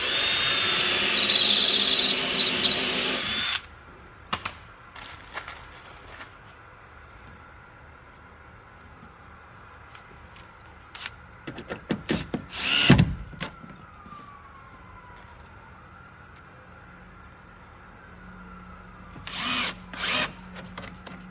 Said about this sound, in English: You drill the first pilot hole,